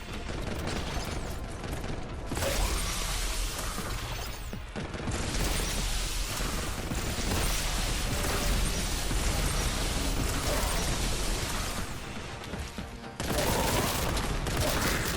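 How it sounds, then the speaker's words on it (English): Sustained bursts of rapid energy-weapon fire from a plasma gun in Warhammer 40K: Boltgun, loud and dense, dropping out briefly at about 2.5, 4.8 and 13 seconds before the barrage resumes. "A plasma gun."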